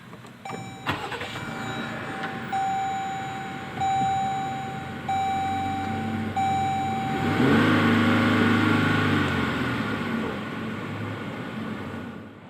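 A series of electronic chimes and beeps from a 2017 Dodge Durango Citadel is followed by its engine cranking to life with a push-button start, then settling into a steady idle. There is no speech.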